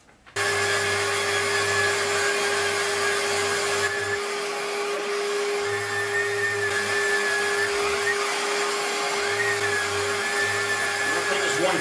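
Steady broadband whir of an orbital sander running continuously on wood, with a constant motor hum and brief dips in the low rumble.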